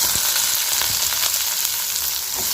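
Oil sizzles and crackles steadily in a hot pan as sliced raw plantain is sautéed, with faint scraping as it is stirred, no voices present.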